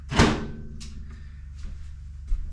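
Food goes into a microwave and the door shuts. One loud thunk stands out at the start, followed by fainter clicks and light knocks in a quiet room.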